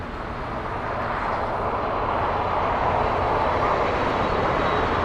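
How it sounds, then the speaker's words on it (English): Delta Airbus A330-200 airliner on arrival at Los Angeles International, inbound from JFK: a steady, broad roar of jet engines that swells slightly louder as it goes, heard alone without voices. "this is Delta 747, that's the flight number, Delta 747, an Airbus A330-200 flying in from JFK"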